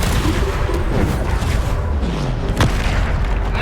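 Bombarda blasting spell in the wizarding game Hogwarts Legacy, loud booming impacts over a dense bed of combat noise, with one sharp bang near the end of the passage.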